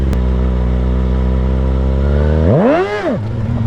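A 636 stunt motorcycle revs steadily at close range with a loud, constant engine tone, then the pitch surges up and falls back in a sharp rev during a handbrake wheelie attempt.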